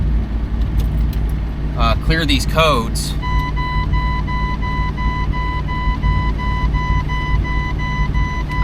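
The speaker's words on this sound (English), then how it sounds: "I'm going to turn the truck on" A truck being switched on after breaking down: a short burst of chirping electronic tones gives way to a steady high beeping tone over a constant engine-like rumble, with a voice speaking briefly at the start.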